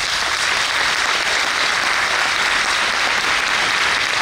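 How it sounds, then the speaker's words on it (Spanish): A church congregation applauds loudly and continuously, a dense even wash of clapping hands from many people filling the whole stretch. "Dale un aplauso a Jesús."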